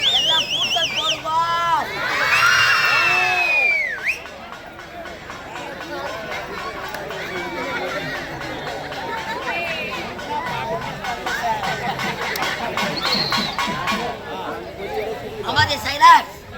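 A restless crowd gathered for a village drama performance: loud overlapping chatter and children's shrill shouts, a near high voice rising above the babble, steady and dense throughout.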